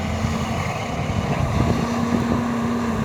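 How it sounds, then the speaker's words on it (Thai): The six-cylinder Volvo diesel engine of a Volvo EC210B LC excavator rumbles steadily at idle, a deep even drone with a faint whine, close and continuous with no talking. "สังเกตดูนะครับเสียงเครื่องยนต์ 6 สูบวอลโว่เนี่ยค่อนข้างจะ เสียงกระหึ่มดีนะครับ"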